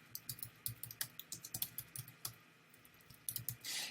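Computer keyboard keys click in quick irregular bursts with short pauses, close and fairly quiet, as a business name is typed in.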